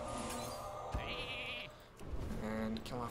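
Sheep bleats from the Polymorph spell in the Hearthstone video game sound as clear game effects, with a quivering bleat near the end, mixed with other spell sounds and a voice talking over them.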